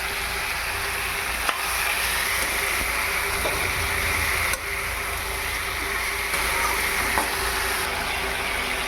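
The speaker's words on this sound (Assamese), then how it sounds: "এতিয়া মই দি দিম ইয়াতে ভোল আলুখিনি।" Boiled potatoes go into a hot pan with tomatoes and fry, giving a steady, close, bright sizzle that carries on evenly, broken by a few light clunks.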